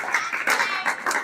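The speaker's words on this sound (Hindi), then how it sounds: "जोरदार तालियां।" Classroom students clap together after weekly test scores are read out, a short burst of several uneven clapping pulses, fairly close and alone without talk.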